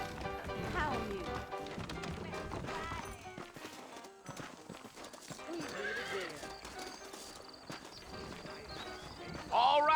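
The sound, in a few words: horses clip-clopping, from video game Red Dead Redemption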